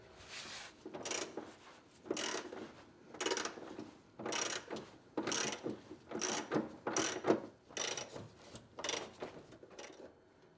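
A ratchet turns the idler arm frame bolts out of a 1982-1992 F-Body Trans Am, giving repeated close bursts of fast clicking, about eight strokes in a steady back-and-forth rhythm, with no voices.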